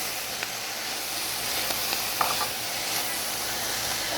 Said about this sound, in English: Now it's really frying.